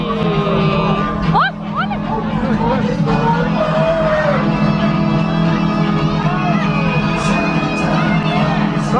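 A crowd aboard a Polar Express themed train ride cheers and whoops, a dense, loud babble of voices with scattered shouts running steadily throughout.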